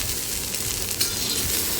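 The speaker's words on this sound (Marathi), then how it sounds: "गरम तवा आहे त्याच्यामध्ये मी भेंडी घालते" Continuous bright sizzling hiss of okra hitting a hot griddle over high flame, loud and close, with a faint crackle partway through and no talking.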